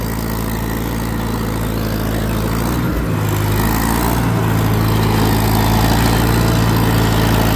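An antique tractor engine pulls hard in third gear in a field, a loud steady low chugging drone with a brief dip partway through, close up.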